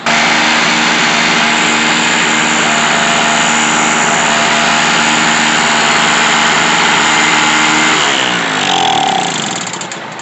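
A Tailgator 900 watt 63cc generator with a freshly cleaned carburetor runs on rich oil-mixed fuel, its engine droning loud, close and steady before the pitch sags and wavers near the end.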